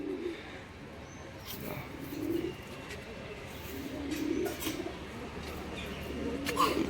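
Pigeons kept for sale in a loft coo in soft recurring rolls against a hissy background, with faint flutters and occasional sharp chirps scattered through.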